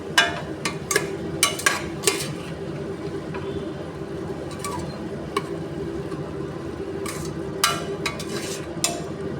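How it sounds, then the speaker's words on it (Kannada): A spoon stirring tomato bath mixture in a pan, with clustered scraping and clinking strokes over a low steady sizzle, fairly close and quiet, with pauses between bursts. "ಇವಾಗ ನಾನು ತಿರುಗಿಸ್ತಾ ಇದ್ದೀನಿ"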